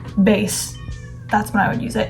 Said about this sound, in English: I'm so sorry that my cat is meowing in the background.